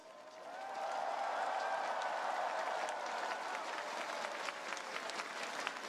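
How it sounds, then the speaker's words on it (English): Large outdoor crowd at Singapore's SG60 National Day Parade breaking into sustained, dense applause that swells within a second and holds steady, a broad wash of many hands with faint cheering mixed in. "round of applause"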